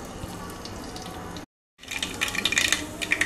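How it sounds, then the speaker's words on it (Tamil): Mustard seeds and urad dal spluttering in hot oil in a kadai, a dense crackle of sharp pops that breaks off briefly and returns louder and busier. "கடுகு பொரிஞ்சிருச்சு"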